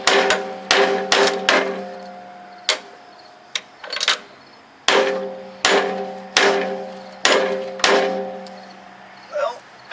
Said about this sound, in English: Okay, I got a hammer.